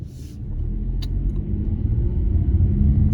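A car driving on a road into St. Croix State Park near Hinckley, Minnesota, heard from inside as a steady low engine and road rumble, with a few faint clicks.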